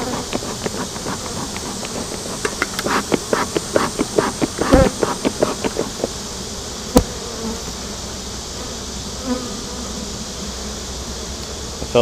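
Honeybees from a busy colony buzz loudly around an open hive, a dense continuous drone close by, with a run of rapid clicking and tapping midway and a sharp knock later.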